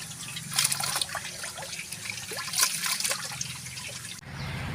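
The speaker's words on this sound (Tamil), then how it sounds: "அரிசியை நம்ம ரெண்டு முறை கழுவிக்கலாம்" Rice is washed in water for beef dum biryani, with close sloshing, trickling and splashing in bursts as the grains are rinsed by hand.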